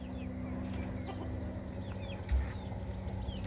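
A Silkie hen and other farm chickens clucking in a yard: soft, brief clucks and chirps scattered over a steady low outdoor hum, fairly faint and at mid distance.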